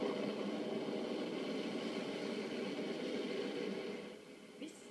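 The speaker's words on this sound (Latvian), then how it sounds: "Dienas garumā Olainas apkārtni šodien piedāvināja seno motoru rūkoņu" A loud, steady roar of old motocross motorcycle engines at a retro motocross race in Olaine, Latvia drones throughout, easing off slightly near the end.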